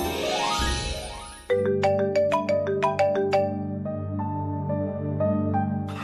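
After a brief burst of music, a phone ringtone plays a repeating melodic electronic jingle, loud and close, running on steadily with no voices over it.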